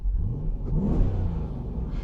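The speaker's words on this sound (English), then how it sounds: "You hear more of the induction in the engine, and you do hear a little more of the exhaust." A 2020 Dodge Durango R/T engine free-revs at night with no one speaking, giving a steady, fairly loud mid-pitched engine drone that swells slightly as the revs climb and then holds, with induction and exhaust both in the mix.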